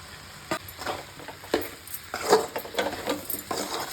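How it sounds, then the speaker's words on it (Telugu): Okra stir-fried in oil with sambar powder in a pan for a lady finger curry, with a soft steady sizzle broken by several scraping stirs and light clinks of a utensil against the pan. "చూడండి కొంచెం దీంట్లో ఫ్రై అయితే సరిపోతుంది."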